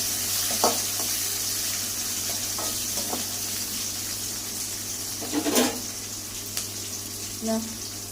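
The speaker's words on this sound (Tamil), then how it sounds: "கடுகு பொரிஞ்சிச்சு" Mustard seeds spluttering in hot oil make a few scattered sharp pops and crackles over a faint steady sizzle, with quiet gaps between bursts.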